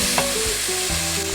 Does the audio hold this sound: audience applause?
no